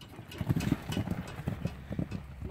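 Several horses at the start of a race, hooves clip-clopping in an uneven patter at moderate distance, with low rumbling background noise.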